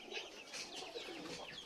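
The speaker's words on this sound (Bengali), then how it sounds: "এই দেখেন কবুতরের বাচ্চা" Pigeon chicks in a coop give soft, faint cooing and murmuring calls, a quiet, fluttery chorus heard without any talking.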